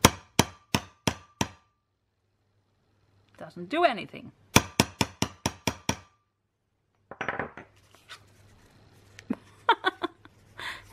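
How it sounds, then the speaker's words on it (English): A hammer taps on a card during a tear-and-sponge giraffe card craft. Quick clusters of sharp, close strikes come in several bursts, with a person talking in the gaps between them. "And then you take a hammer and you take this."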